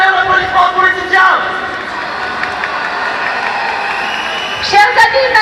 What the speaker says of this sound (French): Un tonnerre d'applaudissements pour Laetitia!